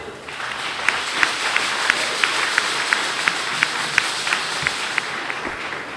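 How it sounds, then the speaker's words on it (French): An audience applauds at a Mass in Benin, steady clapping carrying throughout with a few sharper claps standing out above the crowd. "Et je vous demande d'applaudir."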